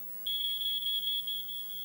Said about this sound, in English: They reach 4 feet before the smoke detector goes off